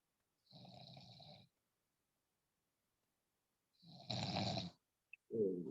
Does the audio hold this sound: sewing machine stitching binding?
no